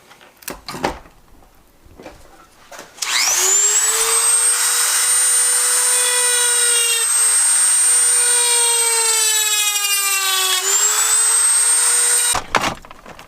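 A power tool runs steadily for about nine seconds with a high whine, trimming a black plastic center console panel in a BMW E39 530i during a shifter install, preceded and followed by brief handling noises.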